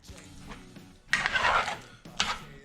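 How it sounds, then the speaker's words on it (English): Cooked red beans being smashed against the side and bottom of a pan for red beans and rice, giving two bursts of wet scraping and clattering against the pan, close and fairly loud, with no talking. "Just smash them along the side of the pan and on the bottom"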